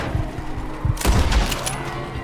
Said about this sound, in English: Further we get from those gunshots